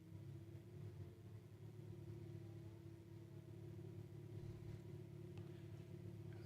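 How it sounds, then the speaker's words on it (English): Big trucks rumbling outside, a low, steady engine drone heard faintly through walls, continuous for several seconds with slight swells. "Got big trucks doing big truck things today."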